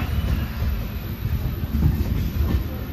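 A passenger train on the Vizag to Araku line rumbles steadily close by, a low continuous roll of wheels and carriage noise with faint rattles and no talk.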